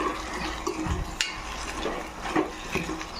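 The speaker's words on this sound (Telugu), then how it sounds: "ఇప్పుడు ఇవి కలుపుకుందాం." A spoon stirs food in a steel pot, making scraping swishes and a few light metallic clinks at an uneven pace, close and moderately loud.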